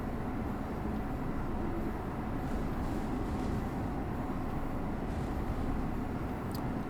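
An NJT ALP-46 electric locomotive runs at speed in Train Sim World 3, a steady broadband rumble and rail roar holding evenly throughout with no talk.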